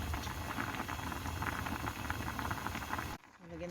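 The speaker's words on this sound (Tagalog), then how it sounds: "So, pakuluan pa natin ng konti." Tteokguk, a Korean rice-cake soup with mandu dumplings, bubbles steadily in a pot with a soft, continuous hiss and burble that cuts off abruptly near the end, leaving quiet room tone.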